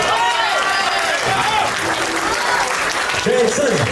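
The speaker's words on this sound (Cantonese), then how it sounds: "你們的掌聲不夠啊" Applause from guests at a wedding banquet fills the room, a dense steady clatter of many hands that keeps going while a master of ceremonies talks loudly over it.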